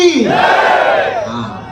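A large crowd at a gathering shouts "Jai" in unison, answering a call of "Bharat Mata ki", a single loud, drawn-out collective roar that rises and then fades.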